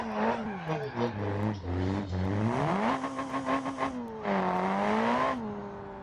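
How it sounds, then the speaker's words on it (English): A drift car engine revs and wails through repeated rising and falling pitches while tires squeal, the sound of a car spinning donuts nearby. "We did some donuts real quick."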